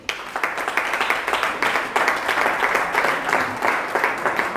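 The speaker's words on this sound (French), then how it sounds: "Acclame très fort pour le Seigneur" A church congregation claps loudly for the Lord, a dense, sustained burst of many hands applauding together close by, steady and rhythmic for several seconds without speech.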